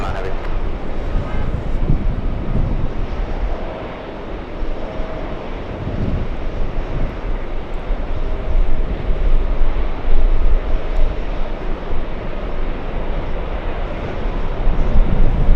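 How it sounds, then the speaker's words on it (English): Boeing 747 freighter landing at an airport, a steady loud broadband engine roar with wind buffeting, sustained throughout at close to medium range. "The 747 freighter is landing up."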